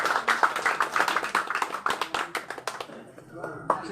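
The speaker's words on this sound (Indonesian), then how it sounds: "tepuk tangan." Applause from a crowd at a gathering, dense overlapping hand claps for about three seconds that then thin out and fade, with voices mixed in underneath.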